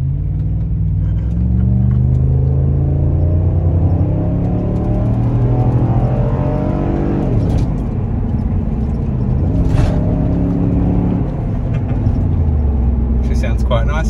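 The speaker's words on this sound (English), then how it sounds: "Do a full acceleration in the car so you can hear what that sounds like." A car engine rumbles and revs up under hard acceleration, the pitch climbing through the gears, loud and close.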